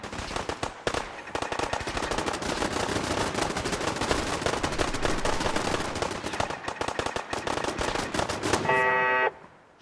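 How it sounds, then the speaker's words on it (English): Dense automatic gunfire rattles almost nonstop in a crossfire from a kill box in the game Fallout 4, loud and close, with bursts overlapping before a brief electronic tone at the end. "Look at that crossfire."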